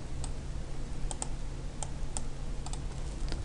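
Computer mouse clicking while working in Inventor 2015 software, several crisp close clicks, some in quick pairs, over a steady low hum.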